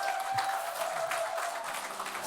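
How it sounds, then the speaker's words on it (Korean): Applause from a political campaign's online wrap-up gathering for its field staff, a steady, fairly dense clapping wash held at even loudness for the whole stretch with no voices over it. "현장에서 고생한 이 우리 산업세 동지분들께 박수 한번 부탁드리겠습니다."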